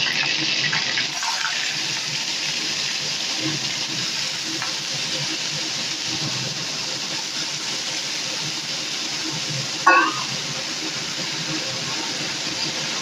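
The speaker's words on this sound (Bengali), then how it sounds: "আমি এখন মোচাগুলোকে দিয়ে দেবো" Chopped banana flower hits hot oil with cumin seeds and chili in a pan for Bengali mocha ghonto, a steady loud sizzle with faint stirring, one sharp clatter near the end, no voices.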